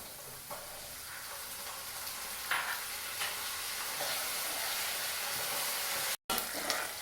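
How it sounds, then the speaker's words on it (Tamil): Shallots frying in sesame oil in a pan for brinjal curry, giving a steady even sizzle with faint stirring scrapes throughout and a brief dropout near the end. "இந்த நேரத்தில் இந்த சின்ன வெங்காயத்தை சேர்த்துக்குவோம்"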